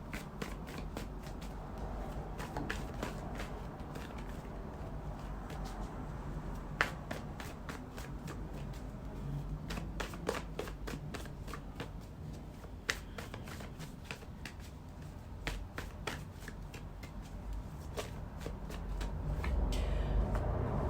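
Tarot cards shuffled by hand, with quiet repeated riffling and sharp card snaps in irregular bursts, close and soft, alone without talking.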